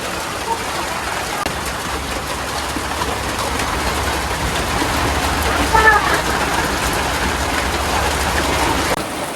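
Rain falls steadily on a village setting, a continuous broadband hiss with scattered drop patter, heard alongside nearby voices talking.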